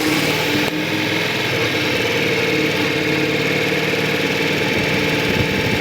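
A motorcycle engine runs during circle and figure-eight riding practice, a loud, close, steady drone that holds an even pitch throughout with no pauses.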